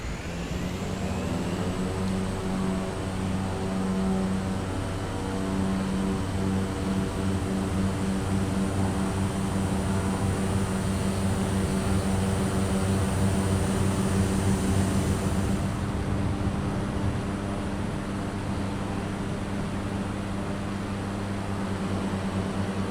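Aircraft engine in Microsoft Flight Simulator 2020 throttling up for takeoff on an Iceland bush trip, a loud continuous propeller drone whose tones rise steadily in pitch and intensity, alone without talk.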